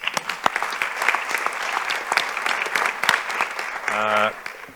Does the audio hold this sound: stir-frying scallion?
no